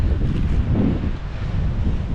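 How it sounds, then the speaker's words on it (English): Strong wind buffets the microphone on a hilltop along the Pinhoti Trail in Alabama, a steady, loud, low roar that rises and falls slightly with no voices. "And that wind."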